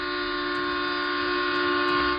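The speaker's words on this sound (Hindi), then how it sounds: "अर्जुन ने कैमरा एडजस्ट किया ही था कि पटरियों पर से एक ट्रेन की सीटी सुनाई दी।" A train whistle sounds from the tracks at Begunkodar railway station in India, a loud, sustained, steady horn tone holding for the whole stretch without a break.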